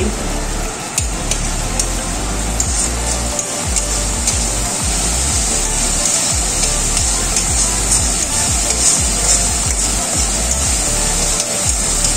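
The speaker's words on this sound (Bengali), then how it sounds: "এবার মশলাটাকে ভালো করে কষিয়ে নিতে হবে" Ground turmeric, cumin and chilli with salt and sugar sauté in a pan for egg kofta curry, a loud, continuous sizzling hiss close by with occasional soft stirring scrapes and no talk.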